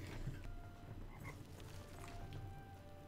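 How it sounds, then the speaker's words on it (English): Frog croaks in the Oblivion video game, faint ambient calls scattered over a steady low outdoor background hum. "I heard a frog."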